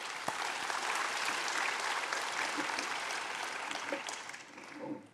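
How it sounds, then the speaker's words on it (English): At a symposium and medal ceremony, a large audience claps for the organizing team, a loud, dense, sustained roar of hands that tapers off at the end. "Let's give them a big round of applause."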